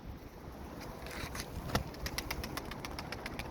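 A flock of racing pigeons, many flying singly, circling outdoors in Esenler, Istanbul; a soft, steady flutter of wings with faint coos and a few brief bright calls, moderately distant and continuous.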